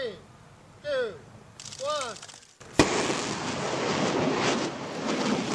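A daytime rocket launch at the University of Alaska Fairbanks rocket range, sent up to observe the aurora: a few chirping calls, then a sudden sharp crack of ignition followed by a sustained loud rushing roar.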